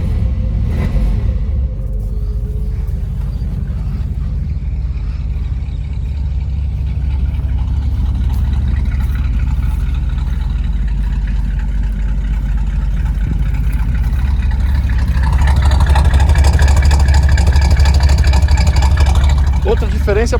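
A Plymouth Barracuda Gran Coupé and a Cuda run together at idle, a steady low engine rumble throughout that swells louder and rougher near the end, with a speaking voice faintly under it.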